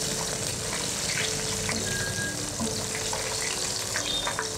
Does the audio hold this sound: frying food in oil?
yes